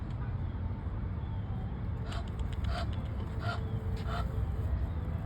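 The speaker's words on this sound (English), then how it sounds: "Look at the Egyptian goose." An Egyptian goose on a walk near Dadeland gives several short honks at moderate distance, spaced apart over steady outdoor background noise.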